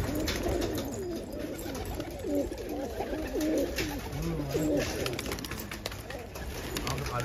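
Pigeons coo in soft repeated rolling calls close by, mixed with light rustling, while people talk quietly in the background.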